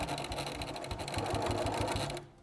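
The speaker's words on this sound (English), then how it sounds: "we're gonna sew all the way to this pin line again" A sewing machine stitches a spring fabric banner in one steady, fast, rhythmic run. It sounds close and continuous, then stops abruptly near the end.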